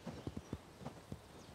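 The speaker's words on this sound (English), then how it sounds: "Weird-looking horses." Hooves of Mongolian horses clip-clopping, about six or seven quick, evenly spaced thuds at moderate distance, fairly quiet with no talk.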